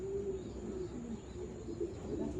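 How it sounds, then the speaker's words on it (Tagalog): Birds near a pigeon racing release site, with soft coos and calls over steady outdoor background noise, moderately close and continuous. "Ang dami ng ibon dito."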